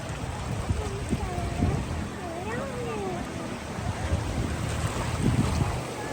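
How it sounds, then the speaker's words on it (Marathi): Sea wave washing onto the shore, a broad continuous wash of surf and wind under a voice and a child's playful sounds nearby. "आता आली बरं का विरा. लाट आली बघ."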